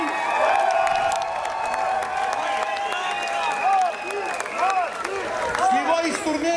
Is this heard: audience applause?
yes